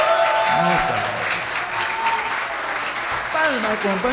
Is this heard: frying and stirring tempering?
no